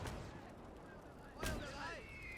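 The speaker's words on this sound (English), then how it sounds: "The mortars are dropping close." Mortar shells exploding during a World War battle in Gates of Hell, a sharp close blast cutting through distant rumbling gunfire, with a whistling incoming round following it.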